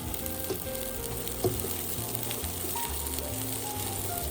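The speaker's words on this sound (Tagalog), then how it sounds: "Isunod na natin igisa ang bawang. Pagkatapos ay sibuyas." Garlic and onion sauté in a pan for pork kare-kare, a soft steady sizzle and crackle with faint stirring clinks, fairly quiet and alone.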